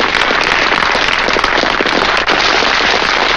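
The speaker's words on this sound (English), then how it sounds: "A big round of applause." A big round of applause rings out from a crowd honoring two men, a thick, loud, continuous wash of clapping with crisp popping hand strikes throughout.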